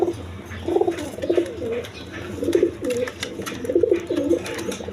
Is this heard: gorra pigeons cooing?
yes